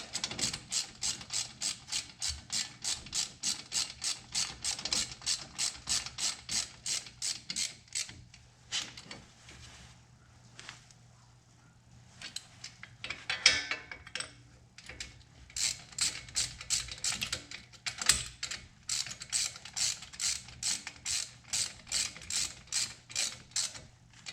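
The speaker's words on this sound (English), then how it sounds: "Get my socket and tighten these bolts up." A socket ratchet clicks rapidly and steadily while tightening brake bolts on a 1999 Toyota Camry during a front brake job, close up. Long runs of even ratcheting stop briefly midway, then resume, with no talk.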